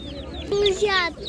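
Chickens cluck briefly at an animal market, a few close, short calls over a murmur of background noise and people nearby.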